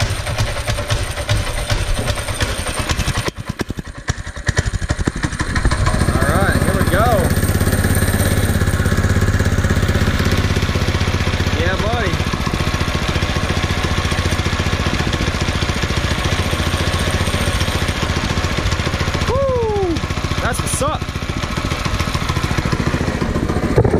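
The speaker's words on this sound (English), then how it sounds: "I got the go-kart little engine running." A 212 cc Predator go-kart engine running steadily nearby, a loud continuous small-engine drone with rattling clatter, after an initial sputter as it catches.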